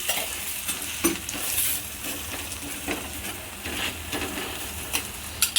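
Multigrain thalipeeth fries in oil on a pan with a steady, close sizzle and occasional scraping taps of a spatula, with no talking.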